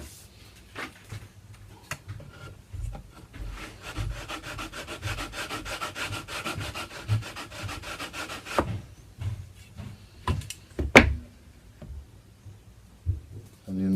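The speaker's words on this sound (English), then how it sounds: "we're going to use a sanding board, and this is 100 grit paper" A 100 grit sanding board rubs back and forth over the wooden hull of a model ship, HMS Thorn, in fast, steady scratchy strokes for about eight seconds, followed by a few scattered knocks and handling sounds.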